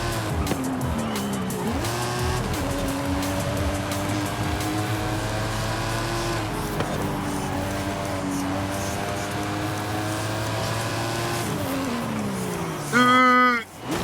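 A racing car engine in Forza Horizon 5 revs and shifts through gears while tires squeal and skid, ending with a sharp louder burst of screeching.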